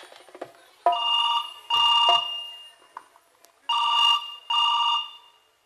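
Telephone ringing on stage during a play, four loud bursts of bell-like electronic ringing with short pauses between, clear and close with no talk over it.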